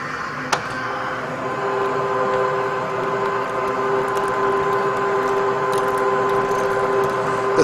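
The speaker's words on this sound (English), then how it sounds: "The threading process for this is the same as you would with any other piece of pipe when you're using the 714 die head" A RIDGID 1224 threading machine runs at 12 RPM, threading pipe with a 714 die head set for NPT: a steady, even mechanical hum with a faint whine and one sharp tick near the start, with no talk.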